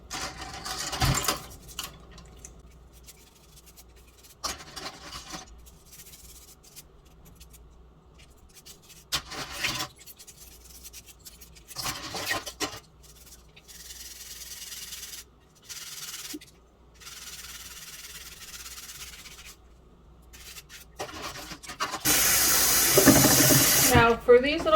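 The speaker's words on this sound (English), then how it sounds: "I just get some good soap and get in there and scrub them." Nail implements being scrubbed with a designated scrubber and dish soap under a running tap in a sink, with intermittent rubbing and splashing and a louder rush of water near the end.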